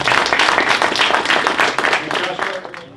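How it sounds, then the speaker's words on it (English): An audience claps for a speaker at a talk, a dense burst of applause that stays strong and then tapers off toward the end, close and filling the room. "So please give him a round of applause."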